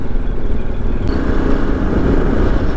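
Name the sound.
Kawasaki KLR motorcycle riding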